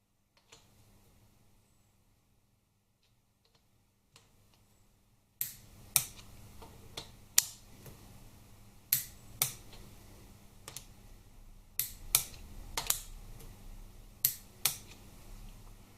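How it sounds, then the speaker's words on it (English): Torque wrench on Harley-Davidson Twin Cam 88 rocker assembly breather bolts set to 13 Nm: near-silence at first, then a run of sharp, close clicks at irregular intervals over a steady low background hum, with no talking. "you want to be changing your torque wrench down to 13 Newton meters, and then torquing up the breather bolts"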